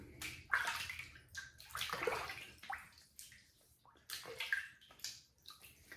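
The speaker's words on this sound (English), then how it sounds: "I'm going to wet the face and get started here." Water splashing and sloshing as a face is wetted by hand before a shave, several separate splash bursts over a few seconds, close and fairly quiet with no talking.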